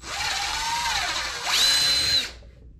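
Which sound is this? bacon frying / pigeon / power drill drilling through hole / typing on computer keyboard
power drill drilling through hole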